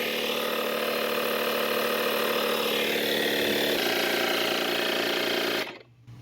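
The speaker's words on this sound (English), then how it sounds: "that is the Vevor 3-in-1 hydraulic jack with the impact wrench, with the compressor and the flashlight" The built-in air compressor of a Vevor 3-in-1 hydraulic jack, a unit that also has an impact wrench and flashlight, runs with a loud, steady, buzzing mechanical drone up close, then cuts off abruptly near the end.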